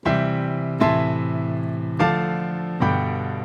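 Four sustained piano chords struck one after another with long gaps between them, each ringing out separately so the sequence sounds disjointed.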